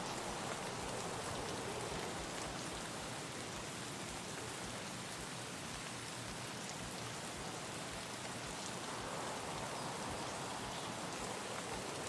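Dense, steady rain pattering on surfaces in the game Escape From Tarkov, an even, unbroken hiss of close raindrops throughout with no voices.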